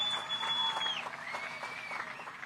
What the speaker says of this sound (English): Give these camera guys a round of applause.